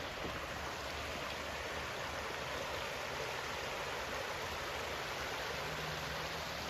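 East Creek flowing beneath a bridge at Rutland, Vermont: a broad, unbroken rushing wash of water heard from above, steady and even in level for several seconds with no voices.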